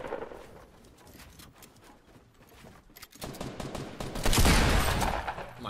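Video game gunfire crackles in rapid repeated shots, growing louder and denser toward the end, with no talk over it.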